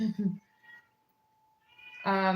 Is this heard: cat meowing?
yes